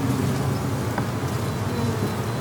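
Honey bees swarm over queen-mating nuke hive frames with a dense, steady close buzz that holds throughout, without speech.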